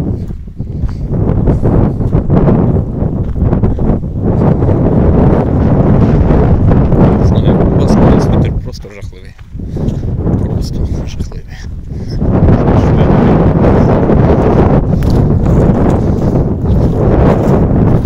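Strong wind buffets a fruit orchard in worsening weather, roaring steadily as broad, rushing noise across the microphone, with a brief lull midway before the gusts build back to full force.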